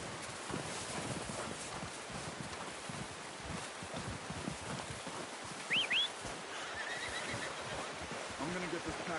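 A horse whinnies briefly in Red Dead Redemption 2, a short rising squeal amid rustling outdoor ambience, hoof clops and wind, fairly faint.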